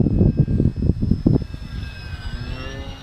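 An FT P40 radio-controlled model airplane flying, its motor giving a steady drone with rising whine tones, loud bursts of rumble early on that settle into a smoother, fainter hum.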